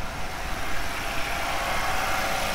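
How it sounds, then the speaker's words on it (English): A car engine idling while it warms up, around 90 degrees Celsius, a steady, even hum with a low rumble, close and continuous, no talk. "Engine's still warming up."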